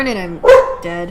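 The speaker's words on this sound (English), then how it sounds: "something is making our dog bark" A pet dog barks once loudly at mid-range in a house, a short burst breaking in between stretches of a person talking.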